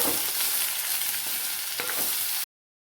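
Chopped tomatoes and onions sautéed in a pan, with a steady close sizzle and a few light stirring scrapes for about two and a half seconds, then sudden silence.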